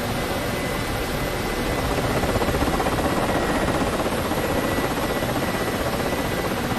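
A Ka-50 Black Shark helicopter in the DCS flight simulator gives off a loud, continuous rotor and turbine drone, steady and close, with a rhythmic blade pulse and no voices.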